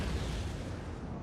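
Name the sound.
cannon shot in video game Napoleon: Total War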